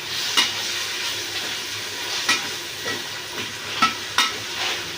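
Ginger garlic paste sizzling in a pan for homemade wedding biryani, a steady fry hiss broken by several sharp scraping strokes of a spoon stirring it, with no talking.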